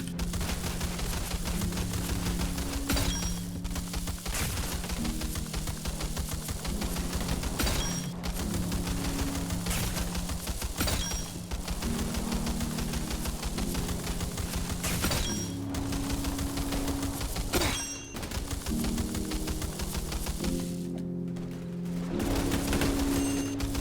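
Slow-firing custom gun build shooting, with sharp single shots spaced a second or two apart over a steady droning backdrop of music and ambience, each report fairly loud and clipped.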